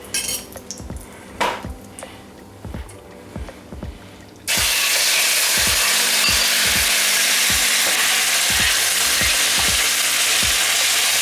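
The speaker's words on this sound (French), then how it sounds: "on va rajouter tout simplement 2 petites cuillères d'huile d'olive. Et ensuite, on va directement saisir la viande." Meat searing in a pan of olive oil for a Thai-style stir-fry, a loud steady sizzle that bursts in partway through after quieter clinks of utensils and pans, with rhythmic scraping and stirring continuing under the hiss.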